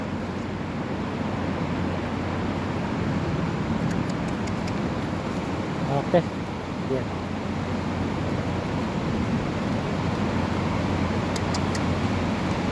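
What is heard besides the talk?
heavy rain on a farm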